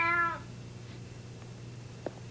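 A single short cat meow played as a sound effect on a TV talk show, clear and fairly close at the start, followed by quiet background with faint clicks.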